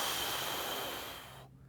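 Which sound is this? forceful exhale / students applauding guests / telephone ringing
forceful exhale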